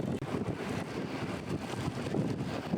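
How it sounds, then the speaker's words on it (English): Strong winter wind during a Toronto polar vortex, a steady broadband roar with gusting swells and microphone buffeting, loud and continuous with no voices. "The wind is literally pushing them back."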